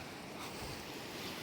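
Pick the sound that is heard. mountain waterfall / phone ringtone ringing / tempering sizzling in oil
mountain waterfall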